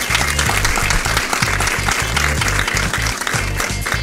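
A studio audience claps in sustained, dense applause for the chairman, a steady wash of hand claps that stays loud throughout with a faint hum underneath.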